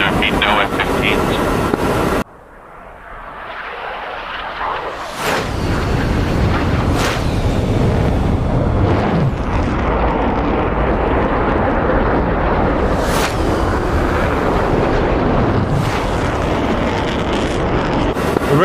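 An F-15 jet in a DCS flight simulation, heard as a steady, loud roar of engine and wind, with several whooshing surges layered over it.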